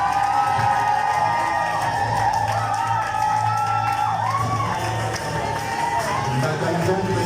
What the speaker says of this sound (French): Ça s'accompagne des acclamations,